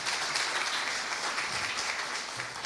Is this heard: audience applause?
yes